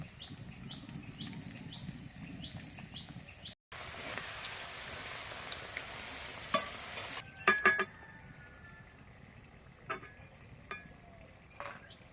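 Crackling sizzle of homemade tomato chips frying in oil, with a short break, then scattered pops and clinks of stirring.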